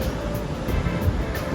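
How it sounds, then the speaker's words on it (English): Ocean surf rolling onto a beach on the Portuguese coast near Matosinhos, a steady broadband wash of breaking waves with no clear gaps, fairly loud and continuous throughout. "A beach with waves."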